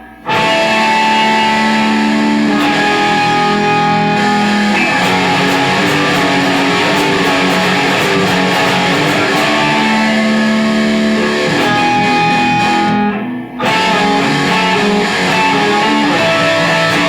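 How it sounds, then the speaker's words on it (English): Two heavily distorted electric guitars play the bridge and chorus of a song, loud and dense for about seventeen seconds. One brief break comes near the end before the riffing resumes. "So the bridge and the chorus sounds like this with both guitars."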